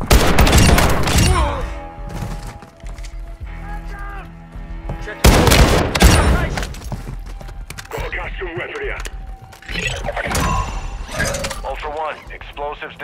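Gunfire in the Call of Duty: DMZ video game: loud, sharp bursts of shots crack at the start and again midway. Voices talk and shout between the volleys, with other game sounds scattered around them.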